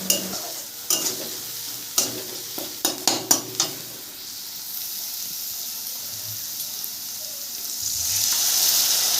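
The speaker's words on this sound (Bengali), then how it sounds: "সমস্ত মশলা দেওয়ার পরে একটুখানি নাড়াচাড়া দিয়ে যাতে তেলের মধ্যে এই যে আমার মশলাটা এটা হালকা ভাজা হয়" A spoon clanks sharply against a pan several times in quick succession as spices are stirred, then the spices sizzle and hiss steadily in oil, growing louder toward the end.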